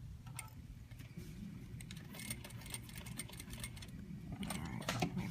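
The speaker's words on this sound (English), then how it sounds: "I can even sort of stitch it just on its own so that I can stop fussing with it." A sewing machine stitches a lapped zipper with a facing, its steady low motor hum running continuously at close range, rising slightly toward the end with a few light clicks above it.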